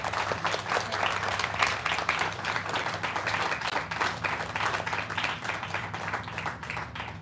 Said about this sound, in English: maybe there's a round of clapping for our panelists